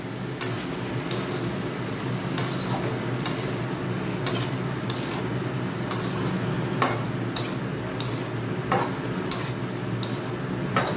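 Small mourola fish stirred in a pan with a utensil, leaving light repeated clinks and scrapes over a constant low frying hiss and hum, no speech.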